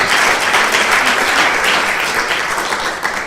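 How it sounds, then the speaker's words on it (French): An evening audience applauds a guest footballer from a National 1 team, a loud, continuous wash of many hands clapping that fades slightly at the end. "je vous demande de l'applaudir"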